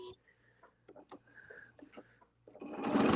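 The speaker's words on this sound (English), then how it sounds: "I'm going to stitch." An embroidery sewing machine starts stitching, a loud, dense whirring burst at the end that follows soft talk with scattered clicks and handling noises.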